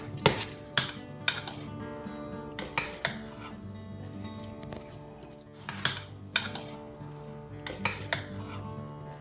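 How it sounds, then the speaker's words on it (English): A spoon stirs and scrapes through mustard potato salad in a bowl, giving repeated clinks and knocks in uneven bursts over a soft mixing sound, close and fairly quiet. "Stir it in, mix it all together."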